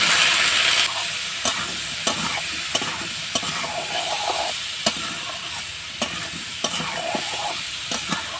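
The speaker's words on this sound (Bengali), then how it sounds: "তো হালকা একটু নাড়াচাড়া করে নেব" Grapes with salt, turmeric and chilli powder sizzle in a pan while a spoon stirs them, with a steady frying hiss and sharp scraping clicks at a regular rhythm, up close and without voices.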